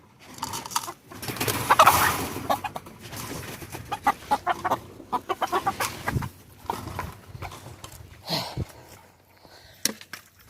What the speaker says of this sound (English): game roosters.